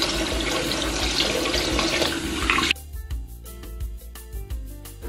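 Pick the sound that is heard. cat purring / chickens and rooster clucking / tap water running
tap water running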